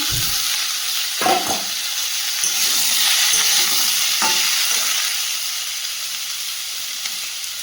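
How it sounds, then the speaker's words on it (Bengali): Pumpkin and potato with fried bori frying in a pan give a steady close sizzling hiss, with a few soft stirring scrapes and knocks. "কুমড়ো আর আলুটা কিছুক্ষণ ভেজে নিয়েছি, এবার ভেজে রাখা বটবটিটাও দিয়ে দেবো"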